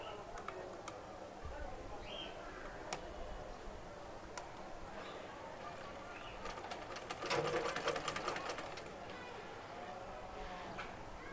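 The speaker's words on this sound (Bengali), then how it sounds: "এই বডির যে গলার কাপড়টা আছে তার উপর সেলাইটা করব" A sewing machine stitches along a dress neckline, a soft steady hum with scattered clicks and a louder burst of rapid stitching partway through, while someone talks at times.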